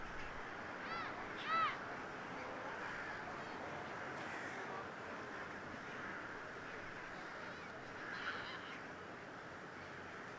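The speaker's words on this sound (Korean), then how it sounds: "이 많은 까마귀는 어디에서 왔을까요?" A winter flock of rooks calls outdoors, with a rough, distant chorus of overlapping caws over a constant murmur and a few louder cries standing out.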